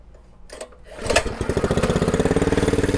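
A Predator 212 engine on a minibike, fitted with a muffler on the header pipe, coughs into life after a couple of knocks, then settles into a steady, rapid chugging idle nearby.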